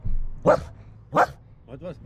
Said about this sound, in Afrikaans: nou 'n hond verby gestap en Villa het haar koel verloor